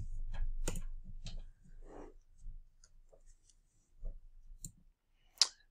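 A computer mouse clicks while someone signs into an online library account, a few sharp dry clicks spaced irregularly across a quiet room, with faint low hum between them.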